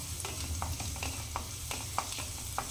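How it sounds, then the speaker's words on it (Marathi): Vegetables for momos, kept crunchy and half-raw, stir-fried with garlic on a high gas flame: a steady close sizzle broken by regular spatula scrapes and clicks against the pan, with no talking. "भाज्या परतताना गॅस मोठा ठेवायचा आहे"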